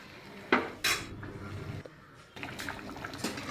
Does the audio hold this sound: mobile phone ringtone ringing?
no